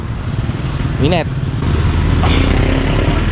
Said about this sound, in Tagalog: Ayan yung motor natin.